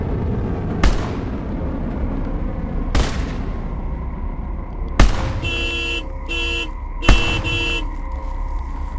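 Gunfire in the video game Fear The Unknown: four sharp, evenly spaced shots over a noisy background, with ringing tonal sounds after the later shots.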